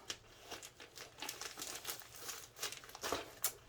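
Paper or packaging being torn and crinkled in a series of quick, close, scratchy rips, fairly quiet.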